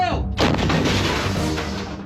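A single loud artillery blast booms out close by, followed by a long rumbling decay that fades over the next two seconds.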